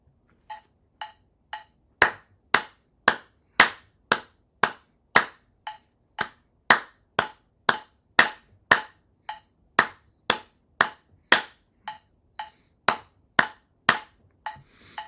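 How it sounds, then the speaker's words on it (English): Hands clap a rhythm in 3/4 meter against a metronome at tempo 116, three quieter clicks leading in before sharp, close claps follow in a steady, even pattern with occasional accented beats. "So we'll hear 3 clicks before I start clapping."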